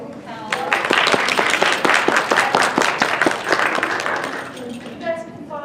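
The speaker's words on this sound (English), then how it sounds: "Can we get a round of applause for our amazing panel?" Audience applause fills a convention panel at an anime convention, a dense run of clapping from a crowd that swells quickly, holds steady for several seconds and then tapers off near the end.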